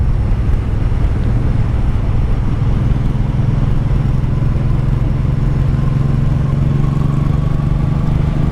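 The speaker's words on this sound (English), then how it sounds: "We are riding everyone's favorite beginner starter bike, the 1984 Honda Shadow VT700C." A 1984 Honda Shadow VT700C motorcycle riding along the road, a loud, continuous engine drone mixed with wind rush, pitch rising slightly late on.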